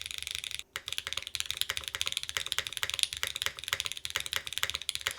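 Rapid, close clacking keystrokes from an EAU75 v2 mechanical keyboard fitted with Obscura switches, a dense irregular patter with one brief pause, fairly quiet and without talk.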